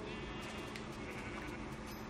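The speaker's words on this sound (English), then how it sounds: "I'm sorry, sheep, but we need your wool." Sheep in the video game Minecraft bleat repeatedly in short, rhythmic cries over a soft steady background, fairly quiet and with no talk over them.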